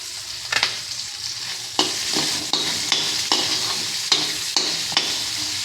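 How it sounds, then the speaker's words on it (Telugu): Salted onions frying in a pan for a bitter gourd tamarind stew sizzle steadily, with the hiss broken by about eight regular scraping stir strokes. "ఉల్లిపాయలు బాగా ఫ్రై అవ్వాలి."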